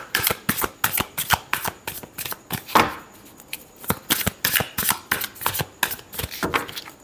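Tarot cards shuffled by hand in a run of quick, crisp riffling bursts, close and fairly loud, with a brief pause midway and no talking.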